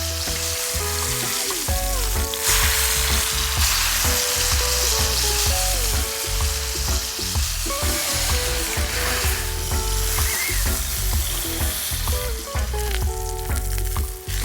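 Mushrooms sizzle and fry steadily in a hot pan, a dense, loud crackle that runs unbroken, with music playing over it and no talk.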